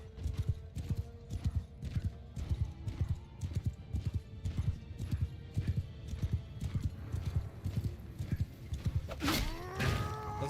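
Cavalry horses gallop in a medieval kingdom strategy video game, a quick continuous clip-clop of hooves near and steady, with a brief whinny toward the end.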